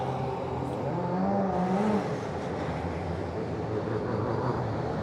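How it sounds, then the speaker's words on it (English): DTM race cars rolling down the pit lane at Assen during qualifying, a loud continuous engine drone with a rising pitched whine early on, steady and close throughout. "So cars all on their way down the pit lane"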